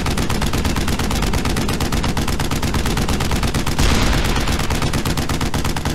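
Shotgun blasts and rapid gunfire in the video game Brothers in Arms: Hell's Highway, a loud, dense, continuous barrage of shots for the full six seconds, with no speech.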